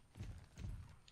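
Hooves of a horse walking in the Star Stable video game, two soft, faint clip-clop thuds in a quick, even rhythm.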